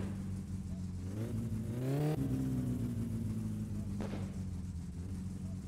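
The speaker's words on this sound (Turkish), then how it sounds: "Araba ısınsın bakalım bir." Car engine in My Summer Car warming up, a steady low rumble with a rising rev sweep near the middle that then settles back to a constant idle, close and continuous with no talk.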